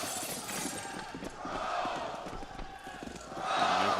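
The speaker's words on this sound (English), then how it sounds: "Hear the crowd." Crowd of esports fans cheering in a theater during a Counter-Strike grand final, a broad roar that swells and fades, loudest near the end.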